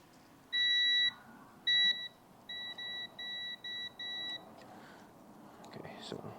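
A multimeter's continuity beeper sounds while testing a replacement fuel pump for a sitting BMW E34 535i: two longer tones then five short beeps in a row, clear and close over a soft room hiss.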